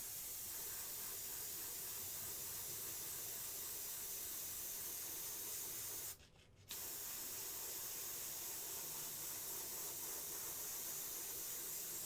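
A Meeden 0.25mm airbrush sprays paint in a continuous soft, close hiss that breaks off once briefly near the middle and then carries on steadily.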